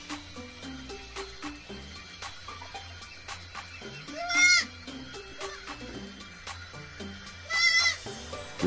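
Goats bleating on a farm in the Philippines, two loud wavering bleats standing out over quieter animal sounds and soft background noise, with no talking.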